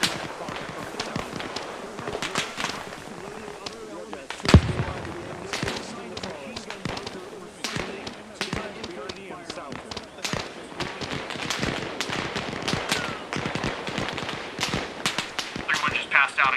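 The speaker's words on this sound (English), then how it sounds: "You're taking a big fire from the south." Gunfire in the video game Arma Reforger, a Screaming Eagles 506th Airborne battle: sharp shots and bursts crack steadily throughout, near and far, with one loud blast, under players talking over radio.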